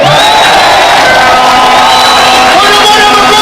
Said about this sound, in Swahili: bodaboda makofi kwenyu.